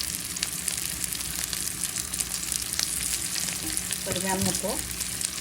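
Chopped garlic, onion and green chilies fry in a pan, giving a continuous close sizzle with scraping stir sounds, and a voice speaks briefly over the cooking near the end.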